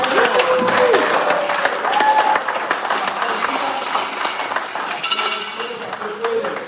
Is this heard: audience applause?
yes